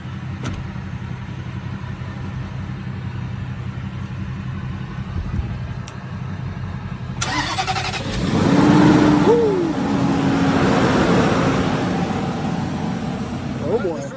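A 2008 Range Rover Supercharged being started after unloading from a trailer: a steady low rumble runs throughout, then a sharper burst of engine noise and a rising tone mark the start before it settles into a close, even idle.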